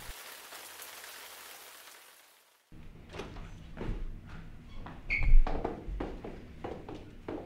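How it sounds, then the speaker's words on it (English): Rain falls as a soft, steady hiss for a couple of seconds, then cuts out, followed by indoor knocks, clatter and what sounds like a door in a short student film scene. "Oh, it's raining."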